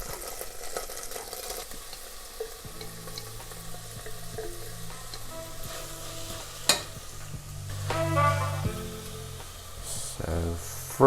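Chopped onion fries in a frying pan with a continuous soft sizzle, mixed with stirring scrapes, clinks and kitchen clatter, heard fairly close.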